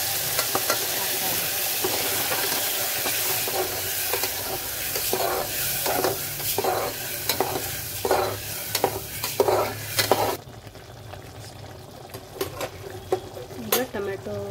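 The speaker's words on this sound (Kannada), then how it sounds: "ಈಗ ಟೊಮೆಟೊ ಪೇಸ್ಟ್ ಕುದೀತಾ ಇದೆ." Tomato paste for tomato bath sizzles and bubbles in a pan with cashews, loud and close, with rhythmic stirring scrapes of a spoon against the pan before the sizzle drops to quieter bubbling near the end.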